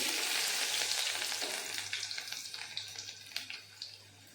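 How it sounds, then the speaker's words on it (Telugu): Mustard seeds, cumin and garlic sizzling and crackling in hot oil for a lentil dish, a steady close fry that starts loud and eases slightly, with scattered sharp pops from the seeds. "ఆయిల్ అయితే హీట్ అయిపోయింది ఇప్పుడైతే ఆవాలు జీలకర్ర కొద్దిగా వెల్లుల్లి"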